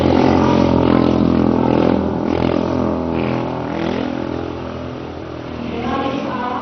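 A motorcycle ridden on one wheel by a constable in a Republic Day parade drones steadily with a loud, close engine hum that eases slightly midway, alongside some faint crowd or outdoor noise.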